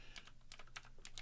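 Typing on a computer keyboard while entering a web address in a browser: five quick clusters of close key clicks, evenly spaced and crisp, with no talking.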